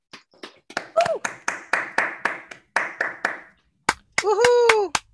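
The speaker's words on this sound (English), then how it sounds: "Let's give Haruki one last round of applause." Scattered clapping for Haruki after his PhD thesis defense, heard over a Zoom call: sharp, close individual claps in an uneven rhythm, with a brief whoop-like voice rising through the middle and a louder cheer near the end.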